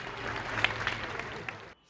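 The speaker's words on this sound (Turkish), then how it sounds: "Evlerinin balkon ve pencerelerine çıkan vatandaşlar sağlık çalışanlarına ve verdikleri mücadeleye alkış tuttu." Residents on balconies and at windows applaud health workers, a diffuse wash of distant clapping that spreads across the neighbourhood, with a few sharper claps standing out before it cuts off abruptly.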